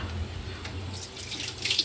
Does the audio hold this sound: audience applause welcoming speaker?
no